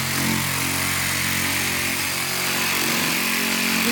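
A Matador bullnose sanding tool works along drywall bullnose trim, producing a steady, loud, continuous abrasive rasp with a droning mechanical tone that holds without a break.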